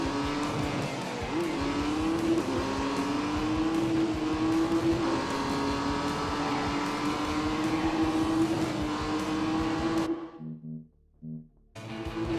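A race car engine in The Grand Tour video game holds a loud, steady high-revving drone with slight pitch shifts through corners. It cuts off abruptly near the end, leaving a few brief stuttering bursts.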